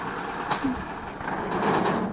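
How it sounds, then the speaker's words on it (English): A flatbed tray truck drives past on a suburban road, its engine rumble broad and steady with a brief hiss-like burst early on, fairly close and moderately loud. "A truck with a tray."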